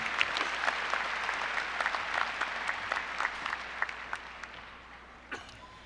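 A commencement audience applauds steadily, a dense wash of many hands clapping at a distance, with a few louder individual claps standing out before it tapers off slightly toward the end.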